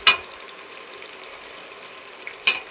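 Ginger garlic paste frying with browned onions for vegetable biryani, a soft steady sizzle with a couple of sharp utensil clinks at the start and near the end, no voices.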